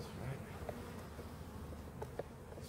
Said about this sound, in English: a whole bunch of bees came out of the side